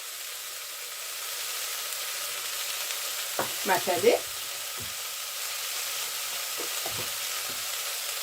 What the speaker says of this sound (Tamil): இப்போ நான் இந்த கருவாடு உருளைக்கிழங்கு எல்லாம் வதங்கி